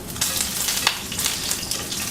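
Steady crackling sizzle of ahi tuna frying in hot oil, with scattered sharper pops and spits rising from the continuous hiss.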